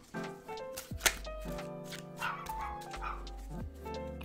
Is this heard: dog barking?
yes